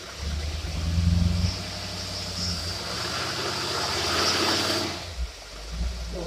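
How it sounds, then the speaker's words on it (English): An engine fitted with a Stromberg single-barrel carburetor runs under heavy dynamometer load, a steady droning roar with a low rumble that swells slightly, then dips and settles near the end, with no talking. "Turn the dyno on, and now it's like you're pulling a big heavy load with the vehicle."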